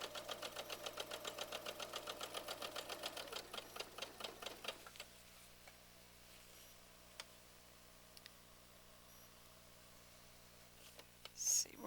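A sewing machine runs in rapid, regular stitching bursts for about five seconds, locking in seams, then stops, leaving a quiet hum with a few faint ticks and a brief clunk at the end.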